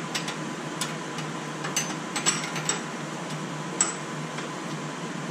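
A ratchet clicks in short, uneven bursts close by, tightening a tie rod on a Volvo XC70, with faint mechanical ticks between strokes.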